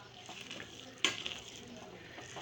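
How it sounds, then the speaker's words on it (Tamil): A spoon stirs vegetable biryani with soybeans inside a pressure cooker, giving one sharp scrape and clatter at the midpoint over a soft, steady background hiss. "ஸோ இப்போ நம்ம கிளறி விடுவோம்"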